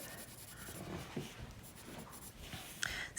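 A pencil colors back and forth on paper while drawing a panda, producing quiet, close scratchy strokes in a soft rhythmic pattern.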